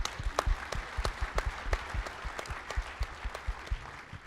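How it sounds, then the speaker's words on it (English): Audience at a water conference session applauding staff, clearly separate sharp claps in an uneven rhythm, moderately near, a smaller crowd clapping alone without talk. "let's give them a round of applause for a great..."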